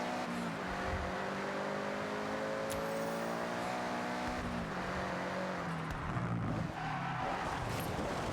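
A car in Forza Horizon 6 warming its tires, a continuous engine drone with shifting revs and a long smeared tire squeal, loud and steady throughout.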